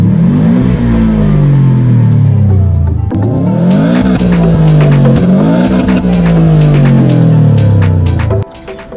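Subaru Impreza WRX STI PPP Widetrack engine revving hard, loud and close, climbing through repeated rising pulls with brief drops between shifts before cutting off near the end; no speech.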